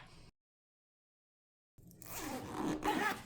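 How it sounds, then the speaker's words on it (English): A zipper pull is worked on a crocheted bag, giving a close, continuous rasping zip after a short pause of silence. "we need to go ahead and put the zipper pull on"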